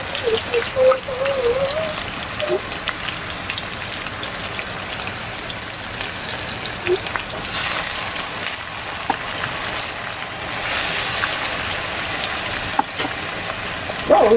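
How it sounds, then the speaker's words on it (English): Turkey chunks frying in hot oil in a home kitchen, a dense steady crackling sizzle with scattered pops, loud and close, continuing unbroken with no talking. "So now I'm just going to put the turkey chunks in. You see how nice and burnt down the oil has gotten, and this is going to fry."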